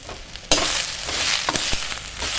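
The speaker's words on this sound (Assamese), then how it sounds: "হালধি আৰু নিমখখিনি মিক্স হোৱালৈকে এইদৰে মই লৰাই ল'ম।" Turmeric and salt being stirred in a hot pan for a mixed dal dish: a quiet start, then a sudden loud frying hiss with a few scraping strokes of a spoon, nearby and with no talking.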